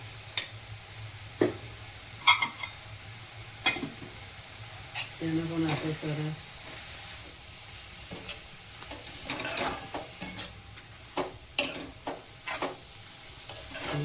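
Ghee sizzles softly in a pan for carrot halwa while a spoon scrapes and stirs in sharp, irregular knocks, and a voice talks briefly in between.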